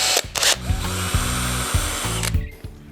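A power drill boring a pilot hole while a Honda Shadow sissy bar is installed, the motor whining steadily with repeated short bursts and pauses as the bit bites, loud and close, no talking.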